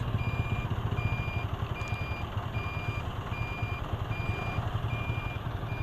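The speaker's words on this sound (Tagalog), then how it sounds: "grabe, traffic." Road traffic in a jam, with a steady idling engine rumble and a repeating high reversing beep from a truck nearby, continuous and moderately loud with no talk.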